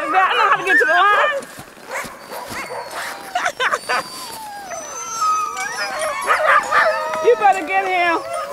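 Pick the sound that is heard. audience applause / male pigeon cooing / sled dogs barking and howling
sled dogs barking and howling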